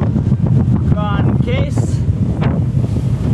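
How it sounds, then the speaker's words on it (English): Wind buffets the microphone while sailing solo into the wind, a loud continuous rumbling roar under a brief spoken word, with a few short whistling gusts. "you'll notice it's a little windy right now"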